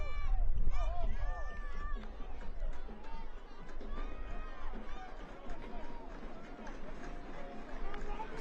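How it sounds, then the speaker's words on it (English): At a Northern Colorado Hailstorm FC soccer match at Future Legends, the home crowd drums on metal bleachers in a continuous rumbling, thumping roar, mixed with crowd chatter and a commentator speaking over it. "Home crowd starts to make some noise on the metal bleachers here at Future Legends"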